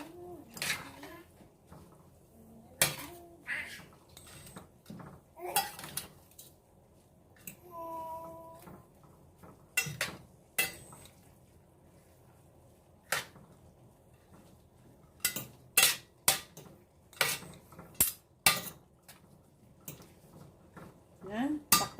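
A utensil stirs pancit bihon and canton noodles in a pan, making repeated sharp metallic clanks and scrapes at an uneven rhythm over a quiet background, with a person talking between the strokes.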